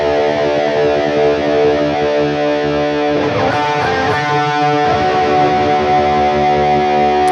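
Sustained distorted electric guitar chord through a Boss feedbacker effect ringing steadily, with a burst of busier picked notes midway, then the held tone swelling back with feedback-like sustain.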